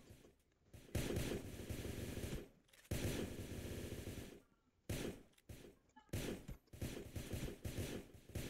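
Gunfire in a first-person shooter video game, with dense bursts of automatic fire in several loud stretches broken by short gaps, heard without talk.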